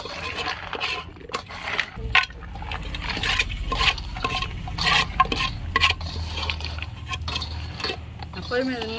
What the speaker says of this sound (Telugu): ఇలా పోసుకొని మొత్తం మిశ్రమం మిక్స్ చేసుకోవాలన్నమాట బాగా తిప్పుకోవాలి